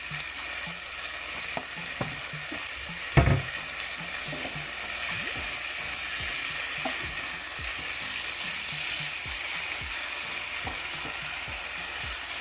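Vegetables with a pinch of paprika sauté in a pan on the stove as part of a Jamaican vegan meal, giving a constant even sizzle broken by light rhythmic scraping of stirring and one louder knock.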